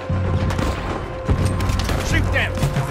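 Heavy booming cannon shots ring out repeatedly amid battle noise in Red Dead Redemption 2, blasts over a constant rumble, with voices shouting underneath.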